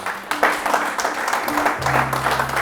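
Steady congregational applause fills a church, praising the Lord of grace, with clapping sustained throughout and a held keyboard note entering partway.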